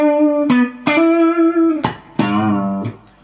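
An electric guitar plays the opening bar of a 12 bar blues, several plucked notes and chords ringing out in a loose rhythm, close and clear with no voice over it.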